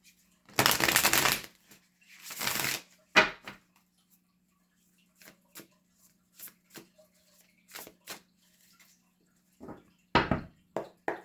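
A deck of tarot cards is shuffled in a couple of quick riffling bursts, followed by scattered soft taps and card slaps, close and quiet.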